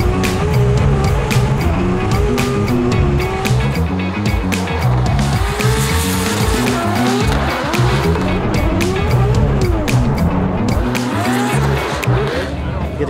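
Loud drift car engine revving continuously with screeching tire squeal as the car drifts at a Formula Drift event in Seattle, close and sustained throughout.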